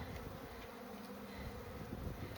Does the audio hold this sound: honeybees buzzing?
yes